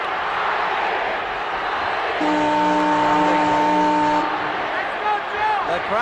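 A large boxing arena crowd roars and chants throughout, a dense far-off wash of voices, with a sustained horn-like tone rising for about two seconds midway.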